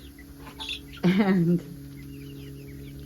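A sitting hen in a backyard flock with white leghorn chicks clucks once in a short burst, close and clear over a low steady background hum.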